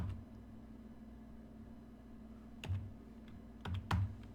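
Computer keyboard keys tapped to enter a number, a few quiet clustered clicks near the end over a steady low hum.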